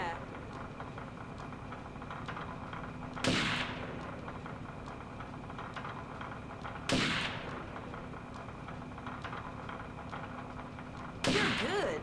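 Sniper rifle shots in the stealth game Second Sight, three sharp, loud cracks spaced a few seconds apart over a steady hum of game background and music.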